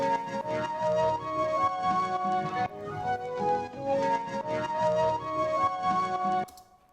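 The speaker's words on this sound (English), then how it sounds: "I've loaded a pretty basic flute sample" Flute sample taken from vinyl and played in Simpler through a basic reverb, a looping two-note phrase of breathy, harmonic flute tones repeating in a steady rhythm, then trailing off into a short reverb tail.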